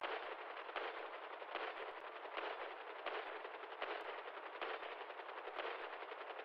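Rapid gunfire in a video game, bursts of shots repeating in a steady rhythm at moderate distance, with no talking.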